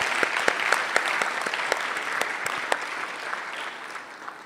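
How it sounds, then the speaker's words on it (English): Applause in a state House chamber for a high school student delegate, steady clapping from many hands with a few sharper individual claps standing out, fading slightly toward the end. "Please give him a round of applause right now."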